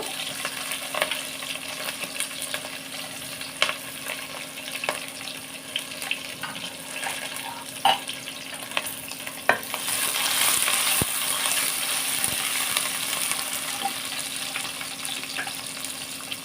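Onions frying in a pan with green chillies for vegetable biryani, a steady close sizzle with occasional stirring scrapes, growing a little louder partway through.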